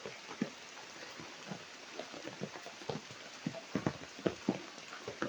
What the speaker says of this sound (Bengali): এই যে এখন আবার বৃষ্টি শুরু হয়ে গেছে